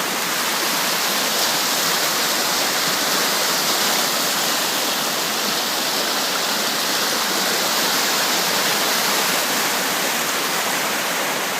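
A swollen stream runs high and fast after a November storm in wooded country, its steady broadband rush of water loud and unbroken throughout with no voices over it.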